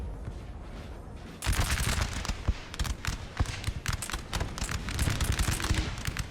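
Dense volleys of musket fire and booming artillery from a Napoleonic battle at Montmirail in 1814 in Napoleon Total War, starting quieter then erupting into loud, continuous crackling bursts with heavy thumps throughout.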